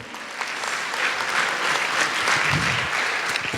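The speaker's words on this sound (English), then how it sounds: "Give yourself a huge round of applause on that." A large audience at a charity gala applauds steadily, a dense, continuous wash of clapping filling the room at even loudness throughout.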